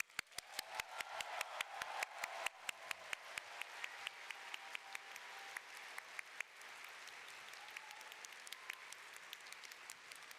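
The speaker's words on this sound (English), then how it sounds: "give him the biggest round of applause" An audience at a Final Fantasy fan festival keynote in Las Vegas applauds, with dense, steady clapping that continues throughout, strong at first and gradually easing slightly toward the end.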